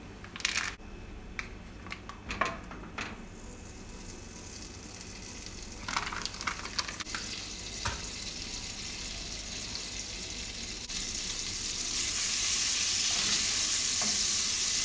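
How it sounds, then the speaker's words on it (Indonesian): Onion and garlic paste sizzles and crackles in margarine in a hot pan, with occasional scraping clatters of a utensil stirring, the frying growing louder toward the end. "Bawang bombay dan bawang putih yang sudah dihaluskan ditumis."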